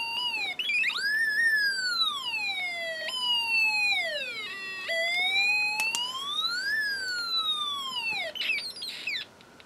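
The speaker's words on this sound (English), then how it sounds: "the volume actually changes because I'm decreasing power to the alarm IC" A Snap Circuits alarm IC sounds a siren, its pitch sweeping up and down in repeated electronic wails, close and clear with shifting volume and no talk.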